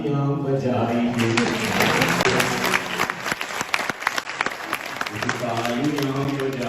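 Audience clapping throughout a Faith, Family and Future community talk, dense and steady, with a singing voice over the start and end of the applause.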